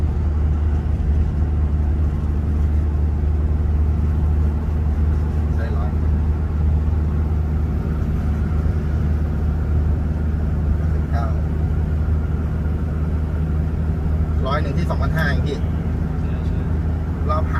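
An Isuzu Dragon Eye 4x2 diesel pickup drives with its engine running, giving a steady, loud low rumble that holds throughout with little change in pitch.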